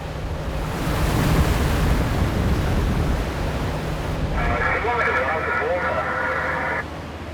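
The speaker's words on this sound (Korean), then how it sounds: "파도는 여전히 휘몰아칩니다." Stormy sea waves surging around an octopus fishing boat, a loud continuous rushing roar with wind buffeting, joined later by a brief whining tonal sound.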